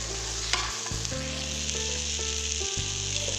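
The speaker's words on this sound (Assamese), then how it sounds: "আলুখিনি ভজা হৈছে আৰু অকণমান মই হাতাখনে ভাঙি দিছোঁ" Potatoes sizzle and fry in a pan while being stirred and broken up with a ladle, a steady close hiss with a low hum in the background.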